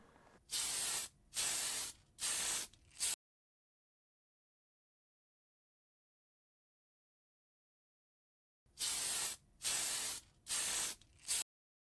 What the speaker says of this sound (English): Light spray of lacquer again, just to seal it all in before the finished article is revealed to you.